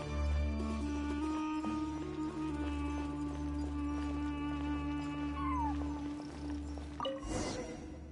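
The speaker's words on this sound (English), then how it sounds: "I followed the cat's cries to find my way out." A cat cries inside ruins in the video game Genshin Impact, soft meows drifting over a steady droning ambient background, fairly faint and alone.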